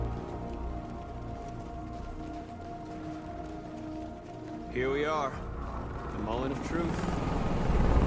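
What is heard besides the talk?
helicopter flying through in the video game Detroit Become Human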